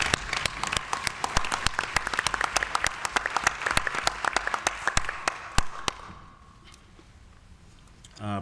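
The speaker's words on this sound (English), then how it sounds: "So we want to give a round of applause for those two gentlemen." Audience applause at a school district commission meeting, a brisk crowd of hands clapping with sharp individual claps standing out, continuing for about six seconds before dying away into quiet room tone.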